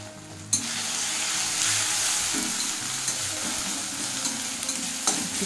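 Turmeric, cumin and coriander powders frying in hot oil for a matar mushroom curry, with a steady close sizzle, a sharp hiss as the spices hit the pan and occasional stirring scrapes, with no talk.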